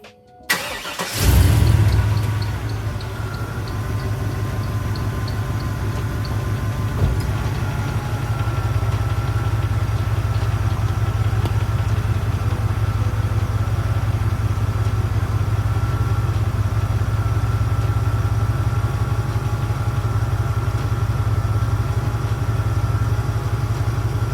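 A 2001-2002 Chevy Silverado engine cranks briefly and catches, then settles into a steady, loud low rumbling idle that runs on without a break for over twenty seconds, with no talking.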